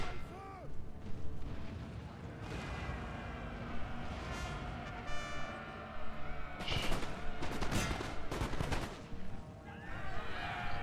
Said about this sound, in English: That volley of gunshots did quite a bit of damage there